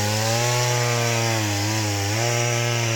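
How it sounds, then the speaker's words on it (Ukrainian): A petrol chainsaw cuts firewood in winter, its engine holding a loud, steady, close whine with a slight dip in pitch midway as the chain bites into the wood, with no voices. "Ладненько, будемо заправляти пилку і різати далі."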